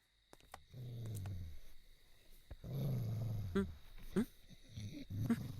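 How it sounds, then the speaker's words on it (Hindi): Dogs growl and bark in short, low, rumbling bursts, several separate snarls spread across a few seconds, moderately close but fairly quiet, with brief gaps between them. "इधर तो इंसान से ज्यादा कुत्ते हैं।"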